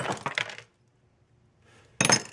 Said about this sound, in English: Now let's just break the glass.